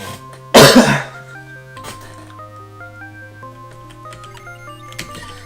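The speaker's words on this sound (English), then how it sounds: "I am not in the mood to be coughing right now." One sharp, loud cough bursts out near the start over a looping chiptune melody from the Touhou game Highly Responsive to Prayers, followed by a few faint throat sounds.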